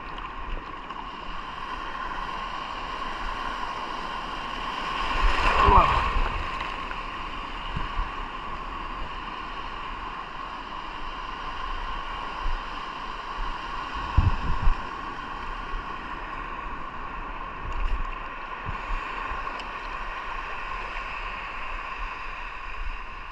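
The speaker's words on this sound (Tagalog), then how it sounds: "Lalaki ng alon, grabe." Big waves wash around a small fishing boat on open water during ultralight casting, with a steady rushing swell and a few louder slaps and surges against the hull.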